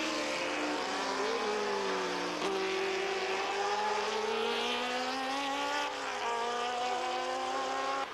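Can-Am race cars at speed at Mosport Park in 1985, a loud sustained engine howl with rising and falling pitch as a car accelerates and shifts, continuous and close, no talk.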